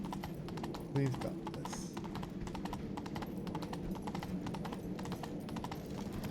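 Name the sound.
horse Roach galloping, hooves, in video game Witcher III: Wild Hunt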